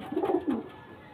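A pair of pigeons, a female and a pilanka-eyed male, gives two low throaty coos in quick succession, close by and alone with no talk.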